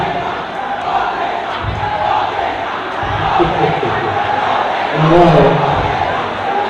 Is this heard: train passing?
no